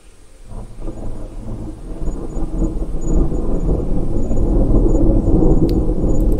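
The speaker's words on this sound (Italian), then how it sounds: "l'effetto della pioggia, l'effetto del tuono" Rumbling thunder rolls in and builds beneath steady heavy rain, a loud, continuous storm sound effect that swells and stays dense throughout.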